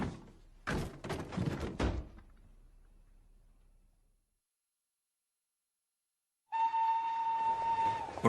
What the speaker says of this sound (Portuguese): Próximo trem para Londres.